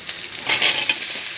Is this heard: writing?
no